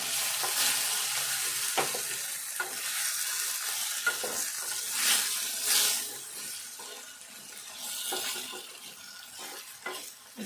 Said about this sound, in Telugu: ఇట్లా మంచిగా వేగినాక ఒకసారి కలుపుకోవాలి